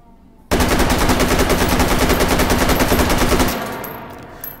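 An AK rifle in the VR shooting game Hot Dogs, Horseshoes and Hand Grenades fires a loud, sustained automatic burst of about three seconds. The rapid shots are close and dense, then trail off into a brief echoing tail.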